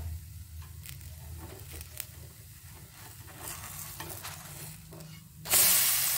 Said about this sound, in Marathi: थोडंसं तेल सोडलंय आपण वरून। आता आपण याला पलटूया।